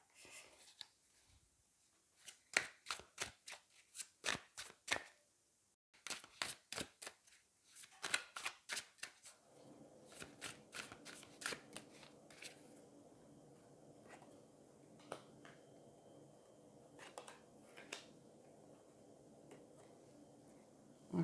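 Darkness of Light oracle cards are shuffled in quick, crisp riffling bursts, then handled and laid down with softer slaps and taps over a quiet room hum.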